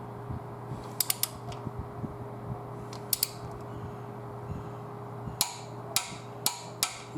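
A pinch bolt on the front fork leg of a 2001 Triumph Bonneville is tightened with a ratcheting tool, giving a few faint clicking and creaking bursts over a steady low hum in a quiet workshop.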